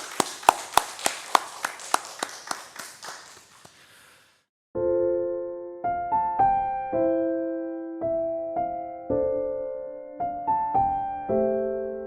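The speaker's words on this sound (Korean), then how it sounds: "우리 하나님께 감사의 박수를 드리겠습니다" Church congregation gives a few seconds of sharp, evenly spaced claps of thanks to God that thin out and fade, then a sustained keyboard or organ melody takes over.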